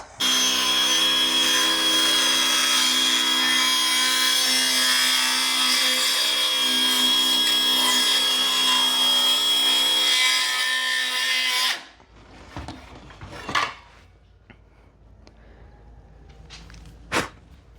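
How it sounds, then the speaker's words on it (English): A power tool grinds steadily through wood for about twelve seconds, loud and close, then stops, leaving a few scattered knocks and handling sounds. "God, using power tools is stressful."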